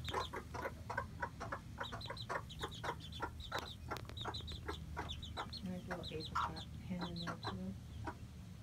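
Breeding hens cluck in short repeated bursts against a steady farmyard hum, with faint voices murmuring low underneath.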